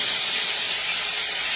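Chicken marinated in Italian dressing with salt and pepper sizzling in a hot pan, a steady bright hiss that carries on evenly and close, with no talking.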